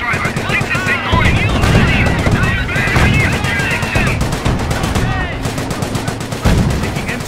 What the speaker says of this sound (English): Taking MG fire.